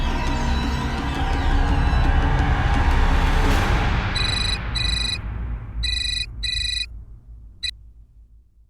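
An electronic phone ringtone chirps in repeated bursts, loud and close, over a low rumbling background that fades near the end.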